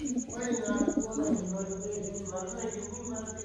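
Pigeons coo softly and continuously nearby while someone talks over them, with a steady high-pitched electronic tone in the background.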